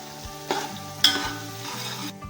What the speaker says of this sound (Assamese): এয়া মই পিঁয়াজ ঢালিছোঁ। এইখিনি মই এতিয়া অলপমান ব্ৰাউন কৰিম